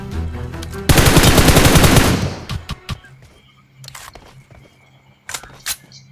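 A loud burst of rapid automatic gunfire in PUBG Mobile lasting about a second, followed by scattered sharper shots and clicks fading into quieter background noise.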